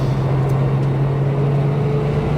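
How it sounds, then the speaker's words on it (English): Porsche 996 with a 3.7 Hartech engine driving along, a steady cabin drone of engine and road noise with a faint continuous gear whine running through it. "You can just hear, if you listen to it, you've tuned into it, you can just hear your gears."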